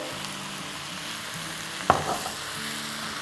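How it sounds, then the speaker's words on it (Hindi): Food fries in about a tablespoon of oil in a pan, a steady close sizzle with a sharp scrape and clatter of stirring in the middle, then the frying carries on. "और इसको 30 सेकंड अच्छे से मिला लेंगे।"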